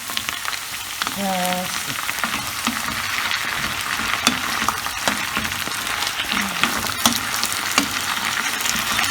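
Onion frying in a pan for a Spanish tortilla de patatas, a steady even sizzle with occasional clicks and light stirring scrapes throughout.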